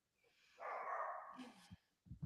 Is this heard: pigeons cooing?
no